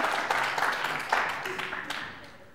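An audience at a school book quiz contest between a Tianeti school and a Tbilisi school claps for the teams, a moderate patter of applause that fades gradually while a voice talks over it.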